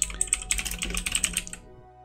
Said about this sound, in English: Sorry if the keyboard's super loud.